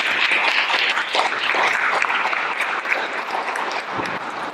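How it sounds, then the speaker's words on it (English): An audience at a town hall meeting claps in steady, dense applause that runs loud and unbroken from start to finish. "Let's give a little round of applause."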